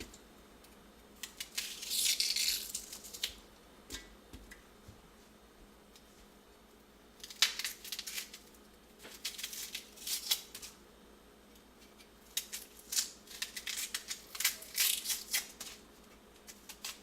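A knife slicing food on a board, cutting slices for a rice, tomato, broccoli and avocado meal; soft, scratchy cutting strokes come in a few bursts separated by quiet pauses, close and without talk.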